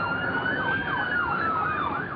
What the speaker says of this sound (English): Suddenly, they heard the wail of police sirens and saw flashing police lights.